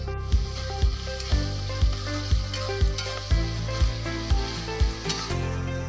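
Whole spices, onion and curry leaves in hot oil, heard as a bright steady sizzle with a regular series of low knocks, about two per second, throughout.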